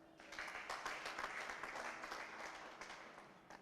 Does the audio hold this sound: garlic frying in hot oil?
no